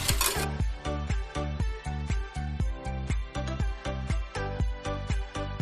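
A whisk beats anise doughnut batter with oil in a bowl, a steady rhythmic clatter of about two strokes per second knocking against the sides, close and alone.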